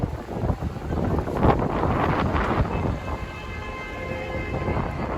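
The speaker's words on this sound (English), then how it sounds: "Looks like it's going to be another windy night on the stream" Continuous wind buffeting a microphone, producing a loud, rumbling roar that swells and eases without pause.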